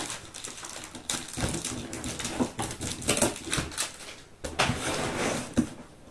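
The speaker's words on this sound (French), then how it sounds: "je coupe le scotch qui dépasse parce que c'est pas lié au lien" Adhesive tape is trimmed with a tool, producing a run of quick crackling snips and rustles, close and fairly quiet, with irregular bursts and brief pauses.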